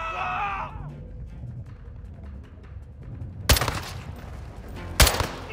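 Gunfire in the Call of Duty: Modern Warfare 2 prison break mission: two sharp, loud shots ring out a second and a half apart over a low rumbling battlefield ambience, after a fading tonal sound at the start.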